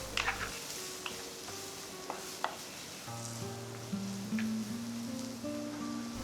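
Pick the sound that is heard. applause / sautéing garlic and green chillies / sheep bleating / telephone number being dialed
sautéing garlic and green chillies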